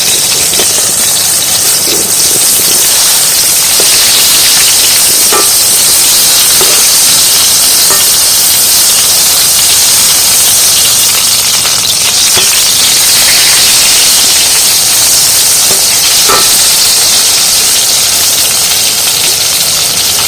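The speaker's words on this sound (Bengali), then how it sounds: "এইভাবে একটু এপিট ওপিট করে জাস্ট একটু ভেজে নেব" Brinjal pieces fry in oil for a Bengali mustard eggplant dish, giving a loud, constant broadband hiss of sizzling with occasional faint ticks and pops, close up and uninterrupted.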